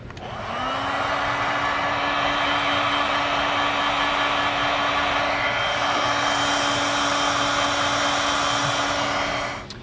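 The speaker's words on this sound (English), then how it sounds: "So I'm going to heat shrink these down" A heat gun blows hot air steadily over heat shrink tubing on Curt universal tail light wiring for a 2020 Ford F-150, a continuous close, loud whooshing roar with a faint whine that starts abruptly and holds for the full stretch.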